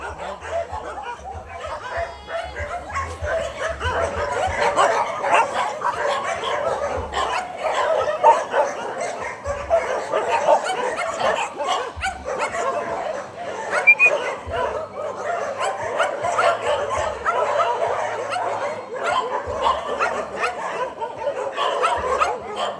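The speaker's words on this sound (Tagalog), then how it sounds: "Dami yung mga aso na yan." Several dogs bark and yip continuously in a noisy chorus, with occasional whimpers mixed in, fairly close and loud throughout.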